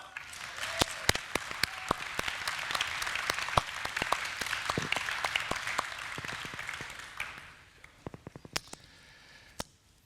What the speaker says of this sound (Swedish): Ja, det är värt en applåd, va?